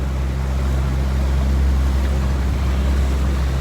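A boat motor runs steadily and loudly throughout, with a constant deep drone and a wash of water noise on a sunset cruise, and no talking.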